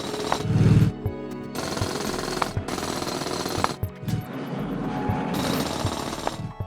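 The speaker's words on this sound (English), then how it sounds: "Why is coal so easy to drill through?" Rapid jackhammer-like drilling through coal in the mining game Chipmatic, loud and rattling in repeated bursts with brief pauses and thuds between runs.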